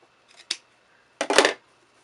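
Scissors snip through layers of quilted fabric while cutting a small curve: a couple of short, crisp clips close by, a pause, then one longer slicing cut, with no voices.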